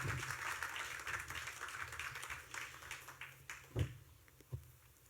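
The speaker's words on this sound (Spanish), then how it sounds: "Denle un aplauso al Señor" A church congregation at a Sunday service claps in praise, a faint, distant patter of hands with a couple of sharper nearby claps standing out toward the end.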